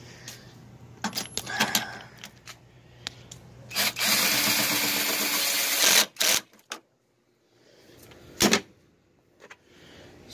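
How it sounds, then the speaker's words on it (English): A power drill driving a bolt whirs in a sustained two-second burst during a radiator replacement on a 2002 Jeep Liberty 3.7 V6, framed by scattered clicks and clanks of tools and metal being handled. "Thread it in a few turns or so, and then get the drill, finish the rest."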